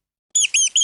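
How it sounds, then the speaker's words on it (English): A mouse gives three quick, high, thin squeaks in a row after a moment of silence, close and clear with nothing else around. "Mouse."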